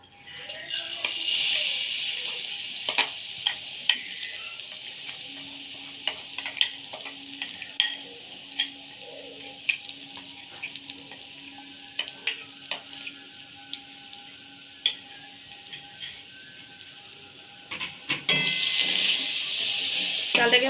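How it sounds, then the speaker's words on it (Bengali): Gobindobhog rice for basanti pulao fries in a kadai, a soft sizzle running beneath frequent, irregular scraping clicks of a spatula stirring the grains, close by and fairly quiet, with a brief hissing flare near the end. "চালটা ভালো করে 10 মিনিট ভেজে নেব।"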